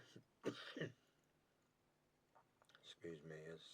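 A couple of short, sharp coughs close to the mic, with some speech and rustling at the end, during fly tying.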